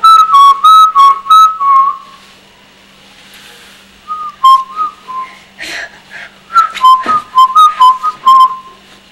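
A pet bird whistles on command in clear bursts of rising and falling tonal notes, loud and close, in two main runs separated by a pause, with no talking over it.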